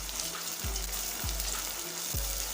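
Garlic-ginger paste and lightly browned onion sizzle in a pan with a constant bubbling hiss over a low hum, with no voices.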